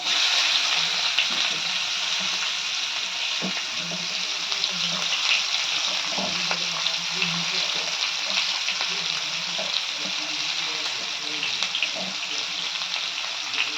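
Steady, loud sizzle of onions frying in hot oil, with a few faint scrapes of stirring and no voices.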